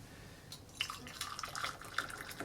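Hot water poured from a kettle into double-walled mugs for a hot toddy, a quiet trickling splash with faint dripping that builds slightly over a couple of seconds, close and soft.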